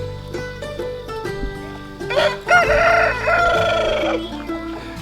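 A rooster crows loudly nearby midway through, amid clucking chickens and other fowl calling around it.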